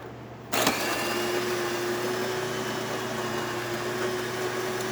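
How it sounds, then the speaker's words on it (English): DeLonghi espresso machine grinder on a medium setting starts abruptly and then runs as a steady, close electric whir with a faint tonal hum, holding at an even level to the end. "We're gonna be using medium settings of the grinder."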